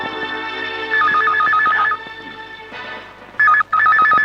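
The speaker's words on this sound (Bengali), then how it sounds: "ফোন।" A telephone rings late at night in a home, with two bursts of a warbling electronic ring separated by a pause, loud and clear over a quiet room tone.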